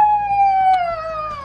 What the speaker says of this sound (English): Oh look,